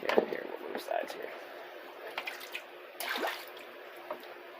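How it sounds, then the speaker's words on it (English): A gold pan held under water, with splashing, trickling and dripping that comes and goes in bursts at moderate loudness while a person talks over it. "We're going to go ahead and put this pan under water."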